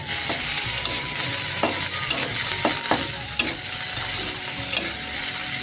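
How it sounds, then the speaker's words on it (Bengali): Diced potatoes frying and being stirred in a pan in a village kitchen, a steady close sizzle broken by a few sharp scrapes and clatters of the spatula. "আলুটা ভালোভাবে ভাজা হয়ে গেছে।"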